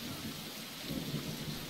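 Steady rain with a low rumble of thunder in a VR adventure game, a dense continuous wash of noise at even loudness through the short stretch, with no voices.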